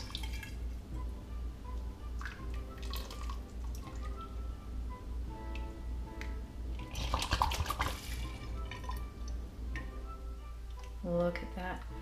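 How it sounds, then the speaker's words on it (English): Homemade golden dandelion syrup is poured slowly into bottles, giving a soft liquid trickle with light drips and glassy clinks, faint under a steady low hum, with a voice talking over it. "And pour it into your bottles."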